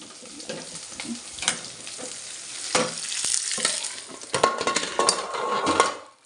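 Oil sizzles and crackles steadily in a pan as tempering fries for drumstick sambar, with occasional clinks and scrapes of a utensil stirring, close and fairly loud throughout.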